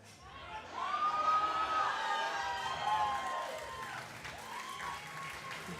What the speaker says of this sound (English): You hear the cheers from the crowd.